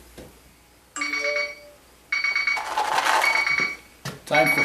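A brew-day timer alarm sounds while beer boils: electronic ringing bursts in separate clusters of about a second each, fairly close and loud, with a longer ringing stretch and a short final burst.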